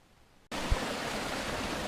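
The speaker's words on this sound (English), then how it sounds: "All you can hear is the stream." Mountain stream on Mt Esja in Iceland flowing steadily, an even hissing rush that starts abruptly after a brief quiet moment and continues alone, soft and constant, with a single low bump early on.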